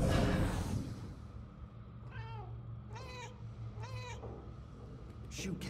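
A cat in the video game Murdered: Soul Suspect gives three or four short, clear meows at steady intervals over a low ambient hum, following a brief burst of louder noise at the start.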